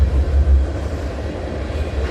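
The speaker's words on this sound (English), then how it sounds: "there's the end of CNA 421. Off it goes to Port Robinson where it terminates." Freight train CNA 421 rolls steadily away, a continuous loud rumble of wheels and cars heard nearby with no talk.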